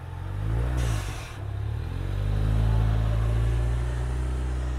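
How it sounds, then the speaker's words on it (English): Lowered Ford Mustang with a turbo engine driving up onto a flatbed tow truck, a steady close engine drone that swells as it climbs, with a brief higher hiss early on and no talking. "So now he's going to drive the Mustang onto the flatbed truck."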